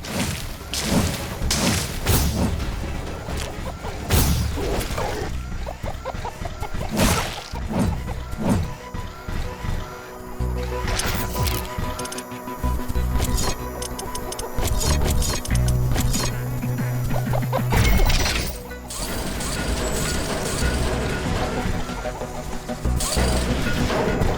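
A base wall is smashed apart amid a loud, chaotic stretch of Riftbreaker combat, with thumps, crashes and booms piling up continuously under dense game noise.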